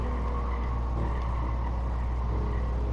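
A race car engine in Gran Turismo 7 drones loud and continuous at high revs, a dense steady roar with slight pitch shifts through corners and braking.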